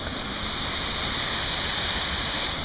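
A waterfall in the Humpy Cove marsh on Orca Island gives off a steady, broad roar of rushing water that stays loud and even throughout, with no voices.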